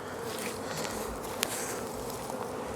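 Dense, steady buzzing of many honey bees crowding over a queen cage taken from a porch hive, a close continuous hum with no voices.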